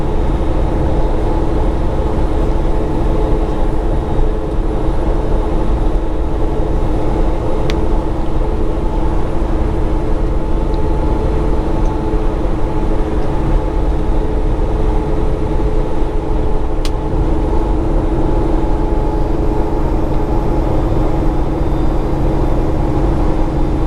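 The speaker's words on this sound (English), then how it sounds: "Let's put this Jake brake down to stage 2." Jake brake engine braking on a 2018 Peterbilt 389 truck heading south through Charleston, West Virginia, set to stage 2. Inside the cab it is a loud, steady, low droning rumble that holds unbroken the whole time.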